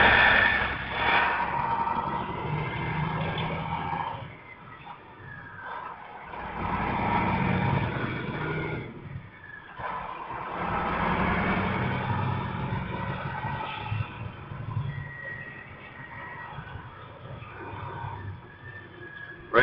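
Heavy truck engine running through its gears, shifting up into 9th with the revs falling to around 1,100 RPM; a loud, steady drone inside the cab that dips and swells in a few long surges, no talking.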